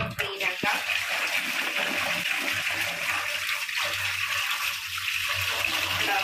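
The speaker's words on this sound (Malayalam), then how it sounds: "ഇപ്പൊ നമുക്ക് ജസ്റ്റ് അത് വെള്ളത്തിലിട്ട് ഒന്നുകൂടെ ഒന്ന് ഇപ്പൊ ഉരച്ചത് നമുക്ക് വെള്ളത്തിൽ ഇട്ട് ഒന്ന് ക്ലീൻ ആക്കാം" Scrubbed Chinese potatoes (koorka) are swished and rinsed in a vessel of water, making a continuous close watery sloshing and rushing sound throughout.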